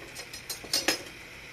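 Kitchen knives clink and rattle against each other as someone rummages through them for a good one while making keto fried zucchini, a handful of faint, close metallic taps.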